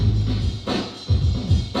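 A hip hop record playing on a turntable at normal speed, a steady mid-tempo beat with heavy bass kicks and brief gaps, loud and close with no voices.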